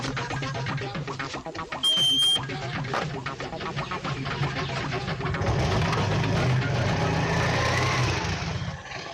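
A vehicle engine idles and runs steadily close by, with a low continuous rumble that grows slightly louder toward the end, mixed with a brief high beep and some background clatter.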